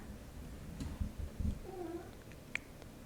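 A house cat gives a short, strained meow-like call in the middle, fairly faint, amid light thumps and background noise.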